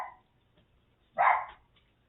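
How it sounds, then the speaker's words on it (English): A pet dog named Sirius barks once inside an apartment, a single sharp, fairly loud bark after a short faint yelp, with quiet room tone around it and no talking. "anytime somebody walks by the apartment, he feels the need to bark"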